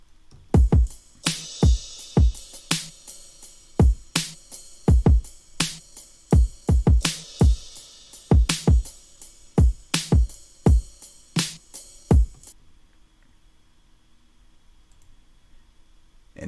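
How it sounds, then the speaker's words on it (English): Layered kick drum in an Ableton beat, an acoustic kick stacked with a punchier trap-style kick, pounding through a busy pattern with crisp hats and snares, then stopping abruptly so near-silence follows. "So I did layer on top of that more of a trappish kind of kick"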